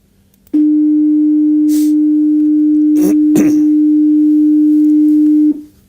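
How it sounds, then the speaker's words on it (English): A pure 302 hertz sine tone sounds loud and steady for about five seconds, starting abruptly and fading quickly at the end, with a few faint background rustles and coughs underneath. "this is 302 hertz, it is slightly different"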